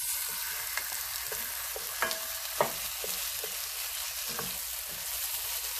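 Tomatoes go into a pan of frying onion and crushed garlic, a constant close sizzle broken by a few soft clacks and scrapes of stirring, with no talking.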